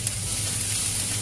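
Egg sizzling in a hot pan with vegetables while making Chinese fried rice, a steady close-up frying hiss with no talking.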